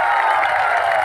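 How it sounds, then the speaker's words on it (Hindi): An audience bursts into applause to welcome the MD and CEO at the AWPL Vijay Parv event in Gurugram's Leisure Valley. It is a brief, dense and steady wash of clapping from a large crowd. "इनका भी जोरदार तालियां बजा करके स्वागत करें।"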